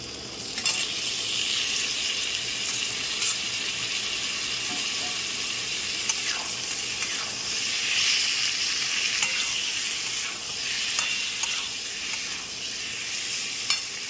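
Onion, green chillies and boiled carrot and potato fry for pasta in a pan, a steady close sizzle and hiss with occasional stirring scrapes, no talking.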